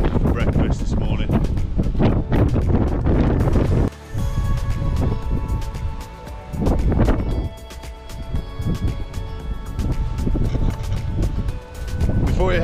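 Gusty wind buffets the microphone in rough, roaring bursts, with a brief lull partway through.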